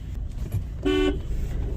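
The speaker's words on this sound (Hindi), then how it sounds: "हॉर्न बढ़िया है, हॉर्न में कोई शिकायत नहीं है।" The horn of a Mahindra TUV300 diesel honks for about a quarter second, loud and close, over a steady low rumble of engine and road noise.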